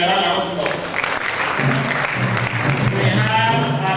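Audience applause fills the whole stretch at a steady, loud level, with a voice speaking over the clapping at a formal event honouring a professor.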